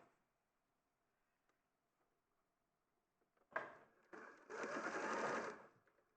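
Sewing machine stitching fabric in two close bursts, a short whirring run followed by a longer steady one, after near silence.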